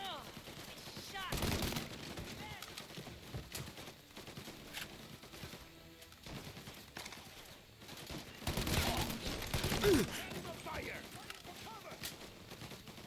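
Gunfire crackles in a shootout in the video game Mafia: Definitive Edition, with several loud bursts of shots breaking out at intervals over a busy background while someone talks.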